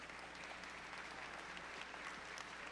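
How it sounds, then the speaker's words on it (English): Audience applause at the ETHSanFrancisco opening ceremony for the ETH Global team, a faint, steady wash of clapping from a crowd that holds evenly throughout without any voices. "So I think we can maybe give the ETH Global team a round of applause."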